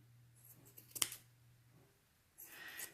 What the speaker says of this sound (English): you're just trimming away, trimming away, trimming away